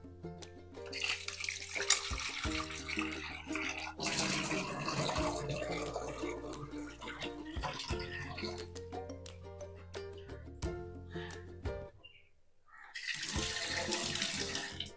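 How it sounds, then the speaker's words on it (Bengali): About 500 grams of raw mutton is washed in a sink under a running tap, water gushing and splashing steadily with a brief pause before the flow resumes. "এটা আমি একবার ধুয়ে রেখে দেবো।"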